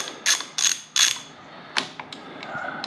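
A socket ratchet clicking on the retaining clip of a Harley motorcycle brake lever: three loud, close bursts of rapid pawl clicks, then a few sharper single clicks and lighter ratcheting.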